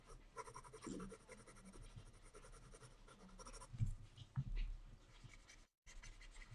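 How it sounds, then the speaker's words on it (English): A graphite pencil shades on paper while drawing a horse, giving quiet, close, rhythmic scratching strokes that come in runs with a brief pause near the end. "So I'm just adding extra graphite."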